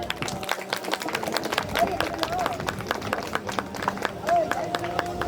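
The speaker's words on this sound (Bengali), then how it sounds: "খুব জোরে একটা হাততালি।" An audience at a Mahishasura Mardini stage program of the Makarpura Bengali community breaks into brisk, steady clapping, many hands together at close range, with murmuring voices underneath.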